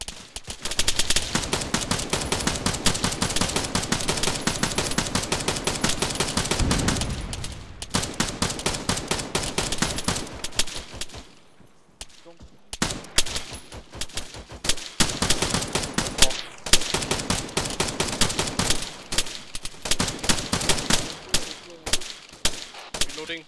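Suppressive machine gun fire in the video game ArmA, with long sustained bursts of rapid automatic shots, loud and close, broken by a brief pause before more choppy bursts resume.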